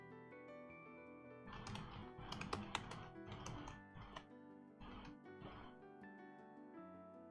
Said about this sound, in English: You get to hear me typing away.